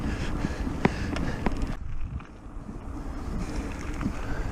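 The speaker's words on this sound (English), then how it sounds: "And I wish that wind had disappeared." Steady outdoor wind buffets the microphone on open moorland near a former airfield runway, a broad low rumble with brief gusty thumps early on, easing slightly midway, then continuing as a constant near roar with no voices.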